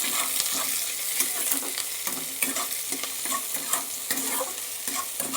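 Chopped onion frying in a pan for a Bengali spinach fritter recipe, with steady sizzling and repeated scraping and stirring strokes close up, and no talk.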